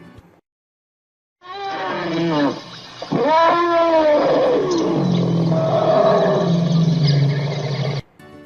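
An elephant trumpets: a loud, drawn-out roar with a rising, harmonic bellow, following a short silence and continuing for several seconds at close range.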